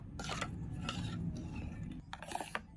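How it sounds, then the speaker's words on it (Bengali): Naan dough ingredients with baking soda being mixed in a bowl, a quiet, close sequence of clinks and scrapes of a utensil against the bowl, in irregular bursts over a low background. "ভালোভাবে এই উপকরণগুলোকে মিশিয়ে নেব"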